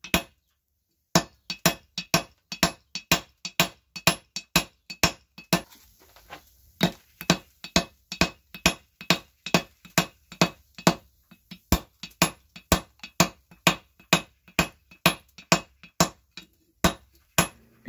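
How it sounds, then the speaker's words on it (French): Hammer blows ring out on a Damascus steel billet being forge-welded on an anvil, a steady run of sharp metallic strikes about one per second after a brief silent start, with a short quieter pause partway through. "je peux forger normalement et arrêter de séparer la trousse de l'enclume à chaque coup"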